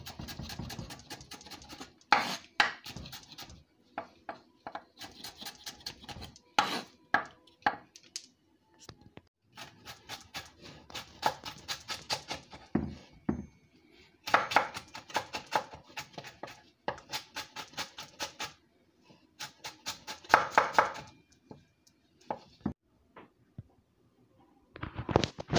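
A knife julienne-cuts vegetables on a board in quick bursts of crisp rapid taps, separated by short pauses, fairly close and clear with no talking.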